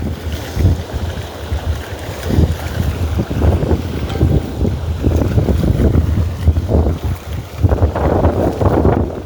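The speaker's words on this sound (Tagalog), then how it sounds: "Lakas ng hangin nga lang." Gusty wind buffets the microphone in loud, rumbling bursts by a river, with a broad rushing noise and faint water sounds beneath.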